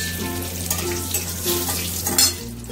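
Bay leaf, cloves, cinnamon and small cardamom fry in hot oil for a vegetarian soya dish, giving a steady crackling sizzle with a few sharper pops and a soft hum underneath.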